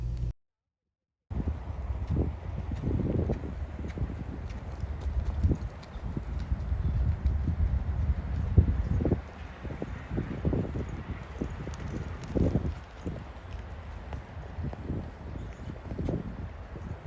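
An English-style horse under saddle moves along, its hooves thudding in an uneven clip-clop rhythm that slows through a downward transition, with wind buffeting the microphone throughout.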